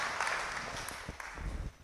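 Church congregation at a Kikuyu service applauds, a diffuse soft wash of clapping with a few low thumps, fairly distant and quiet, tapering off within two seconds.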